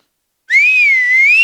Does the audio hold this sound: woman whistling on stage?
yes